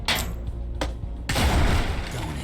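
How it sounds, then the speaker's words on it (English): A hand grenade explodes in the video game Mutant Year Zero: a loud burst sets off a sharp blast, then a second heavier boom follows with a rumbling, crackling tail. "So we could use something like a hand grenade."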